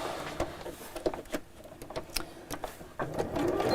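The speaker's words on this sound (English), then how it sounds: "I'm going to sew around the bottom 3 sides" Domestic sewing machine stitching around the bottom three sides of fabric pieces placed right sides together, with a faint, uneven whirring and clicking run that pauses and restarts, steadier toward the end.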